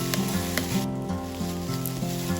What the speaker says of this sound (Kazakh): картопты салып, толықтай қуырамыз